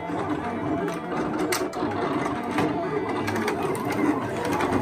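Vinyl cutter cutting a drafted design, with rapid mechanical buzzing and clicking like a printer carriage, moderately quiet, under intermittent talk.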